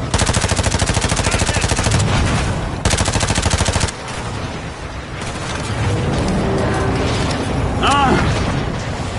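Loud rapid automatic gunfire in Call of Duty Modern Warfare 2 campaign, dense bursts in the first four seconds, then rumbling battle noise and explosions with a player talking over it.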